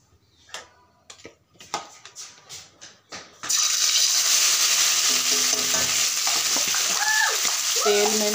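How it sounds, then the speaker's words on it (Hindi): Spices hit hot oil while black chickpea curry is cooking. A few sharp clicks and taps come first, then a loud, steady sizzle bursts in and continues. A faint voice comes in near the end. "तेल में मसाले को डालें।"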